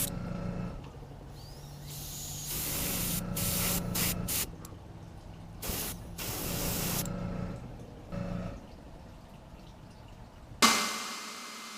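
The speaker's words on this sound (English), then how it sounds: "spray some sepia on it" An airbrush sprays sepia paint onto a handmade wooden bluegill fishing lure in repeated hissing bursts of varying length, close and fairly quiet, with brief gaps and a final sharper puff of air.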